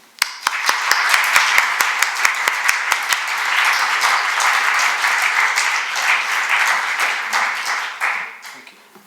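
A conference audience breaks into sustained, loud applause to welcome two speakers at a bioeconomy event, with many hands clapping densely and steadily before it fades away at the end.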